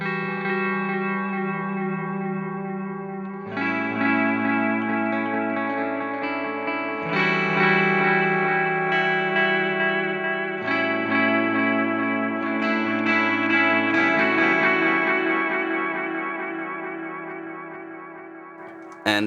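Guitar through a Boss ME-90 multi-effects unit on its tape delay setting, turned fully up: sustained chords with warbling, chorus-like repeats that blend and build steadily, with no talking.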